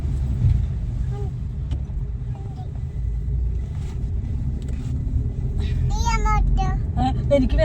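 A road vehicle rumbles past nearby near Marari beach, a steady low engine and tyre drone building toward the end, while a small child and an adult talk over it.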